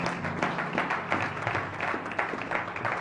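A congregation in church applauding during a French-language sermon, continuous moderate clapping from many people with a fairly even, crowded texture throughout.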